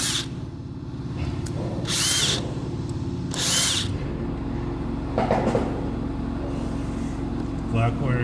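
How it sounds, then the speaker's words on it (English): A power drill backs screws out during basement light and outlet rough-in wiring, giving short whirring bursts separated by pauses over a low steady hum, with a voice speaking nearby. "Back the screws out."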